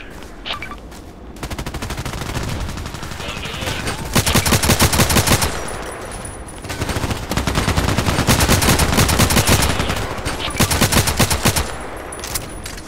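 KelTec RFB carbine firing in the online shooter Contract Wars on the Site map, loud rapid shots in long close bursts broken by short pauses, with no talking over the gunfire.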